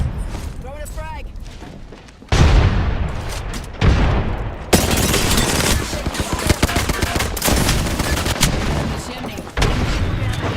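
A frag grenade thrown and exploding in a military shooter, loud sudden blasts followed by sustained gunfire and booming battle noise across the stretch, with voices heard between the blasts.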